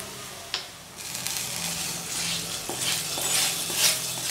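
Curry leaf tempering poured into a pot of ven pongal with a sharp splash and sizzle, then stirred with steady scraping and bubbling sounds, close and fairly loud with no talking.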